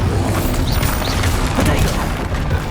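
Bombarda blasting spell explosions in Hogwarts Legacy, a continuous loud roar of booms and crashing debris filling the whole stretch, with busy game noise layered underneath.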